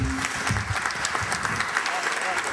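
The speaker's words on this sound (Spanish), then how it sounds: "Vamos a brindarle un fuerte aplauso al señor Miguel Molinari" Audience applause at an evening talk on the origins of zarzuela in Miraflores, a steady wash of clapping from a seated crowd, with a voice briefly audible beneath it near the start.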